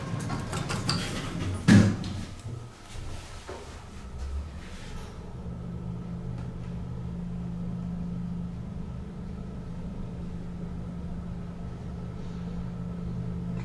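Ride in a 1984 Westinghouse Selectomatic Mark V elevator at the Sheraton Inner Harbor, a knock and thud of motion starting, then a steady low hum and rumble of the car travelling smoothly.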